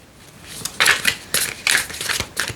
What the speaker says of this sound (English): Okay, and now I'll shuffle for this one.